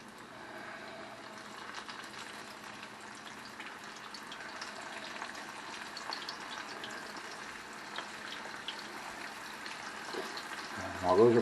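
Coated flounder pieces deep frying in hot oil, a steady soft crackling sizzle that continues evenly, with a brief louder clatter at the end.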